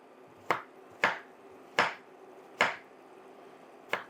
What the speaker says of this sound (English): I'm going to slice these very thin